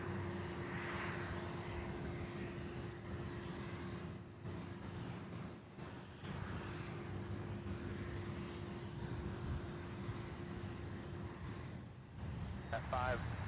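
Airplane taxiing at Louisville airport, a steady close engine drone with a constant tone, running throughout under intermittent talk.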